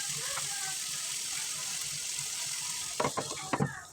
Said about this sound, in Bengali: মাংস দেওয়ার পরে ভালোভাবে নেড়ে চেড়ে মশলার সাথে মিশিয়ে দিতে হবে।